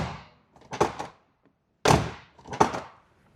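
A heavy, roughly 70-year-old classic Corvette door shuts twice with solid, echoing thunks, a brief rattle before each, with quiet pauses in between.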